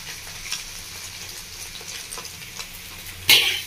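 Egg and pointed gourd (potol) fry in a pan with a soft, steady sizzle and faint crackles, then a brief, louder burst of hissing near the end; nobody speaks.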